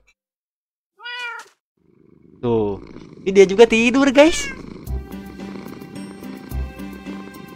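A cat in a Minecraft game gives a brief meow, then a longer louder string of meows with a low rumbling purr beneath, while a person talks over the sounds near the end.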